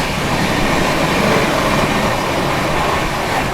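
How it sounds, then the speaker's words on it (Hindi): Express train running at speed while overtaking the Khatipura Howrah Special, a loud continuous rushing rumble of wheels and carriages with no pauses. "पैरेलल ओवरटेक किया है भाई खातीपुरा हावड़ा स्पेशल को"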